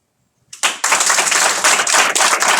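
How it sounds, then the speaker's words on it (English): Audience clapping at a tense school district board meeting starts abruptly after a moment of silence, then a loud, dense burst of many hands continues steadily near the room. "Excuse me, we will not have any clapping"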